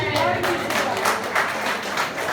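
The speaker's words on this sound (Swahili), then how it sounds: "Let's thank God and let's clap our hands for Jesus" Congregation clapping hands in praise at a Sunday church service, a steady dense patter of many hands filling the room, with voices mixed in.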